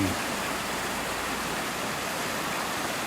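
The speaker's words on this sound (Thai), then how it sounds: "ลานกลางเต็นท์ห้วยบงนะครับ ก็จะมีลำธาร" A small, cold stream runs beside the tent ground at Huai Bong campground in Tat Mok National Park, Thailand, making a continuous, even rush of water that stays close and moderately loud throughout, with no talk.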